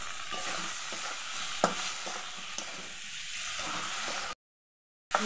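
Tomatoes frying with potatoes in a pan for a cabbage ghonto, a steady close sizzle and hiss with a few sharp stirring clinks, cutting off briefly near the end.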